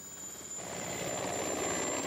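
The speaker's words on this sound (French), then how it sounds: "un hélicoptère doit emmener Massoud à Rajabaoudine" A helicopter flies with a steady whirring rotor drone that grows slightly louder and fuller partway through, continuous and fairly distant, with no voices.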